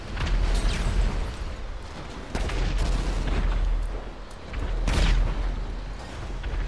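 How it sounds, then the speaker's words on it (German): Explosions in GTA 5 Online on PS3 produce repeated heavy booms and bursts over a dense, noisy game soundscape, several loud swells across the clip with no voices. "Wunderbar, gleich explodiert."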